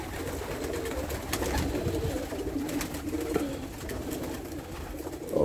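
Domestic pigeons in a loft coo in low, rolling murmurs, a steady close chorus layered with soft rustling from the birds.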